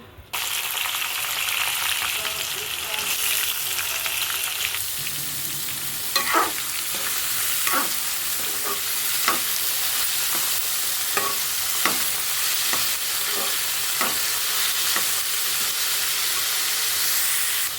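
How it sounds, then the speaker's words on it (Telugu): Loud, constant frying hiss of potatoes fills the pan as a spatula scrapes through it in a regular rhythm, roughly once a second, with no talking. "పాలకులో బాగా కలిసేటట్టు కలిపేసుకున్నానండి"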